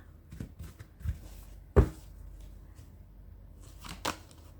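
Tarot cards are shuffled and handled in a quiet room during a Leo horoscope reading, with a few soft riffling bursts and one sharper snap near the middle, close and fairly faint.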